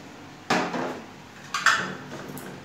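Soaked green gram is stirred in a metal cooking pan, with two or three distinct clanks of a utensil against the pan in a quiet kitchen, close and sharp.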